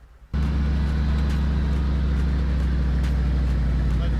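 A Mercedes G-500 6x6 Brabus off-roader crawls slowly with all wheels locked, a steady deep engine rumble that starts abruptly and holds level and close throughout.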